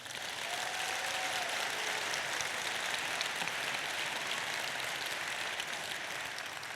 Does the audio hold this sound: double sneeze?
no